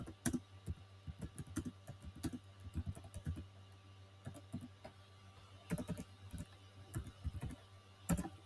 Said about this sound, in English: So for now, I'll just type my name.